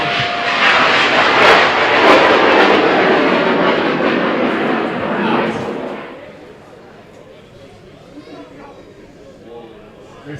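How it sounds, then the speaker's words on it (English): Amateur student rocket launching at a European rocketry competition: a loud, broad roaring rush of engine noise that holds strong for about six seconds, then drops away to a fainter distant rumble as the rocket climbs, with a voice speaking over it. "Ignition, liftoff."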